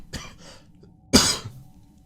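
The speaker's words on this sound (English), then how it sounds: "Had to cough a little bit." Two sharp coughs from one person, a softer one followed by a louder, harsher one, close to the microphone with quiet between them.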